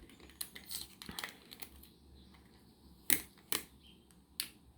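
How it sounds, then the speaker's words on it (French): A small piece of clear adhesive tape is handled up close, giving faint crinkles and a few sharp crackling snaps as it is pulled and peeled, quiet and sporadic. "on va prendre un petit bout de papier collant"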